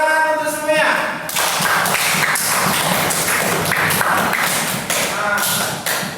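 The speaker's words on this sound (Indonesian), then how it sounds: "Tepuk tangan untuk semuanya" A classroom group claps together after a brief voice, dense clapping filling several seconds at moderate closeness, thinning briefly near the end as more voices come in.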